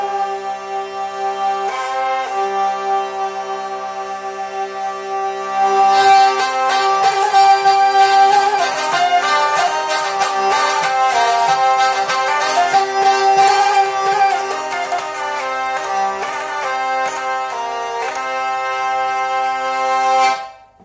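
A hurdy-gurdy in G/C tuning drones steadily, then a buzzing, rhythmic melody joins over the sustained drone with an octave string, ringing for about twenty seconds before stopping.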